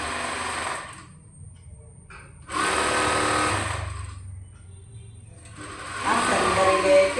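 A sewing machine double stitching kids' pants hums in three sustained runs separated by short pauses.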